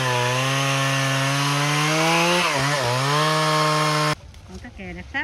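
A chainsaw runs at a loud, steady pitch as it cuts an old, long-established gừa bush in an overgrown abandoned garden, dipping briefly under load before cutting off abruptly, after which someone talks.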